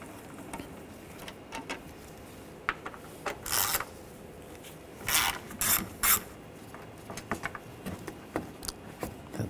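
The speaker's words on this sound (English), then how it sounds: "Using a 8mm socket, take these screws out." Hand ratchet turning an 8mm socket to back out screws on a 2013-2019 Ford Escape 2.0L, close-up bursts of quick clicking in short irregular runs over a low background hum.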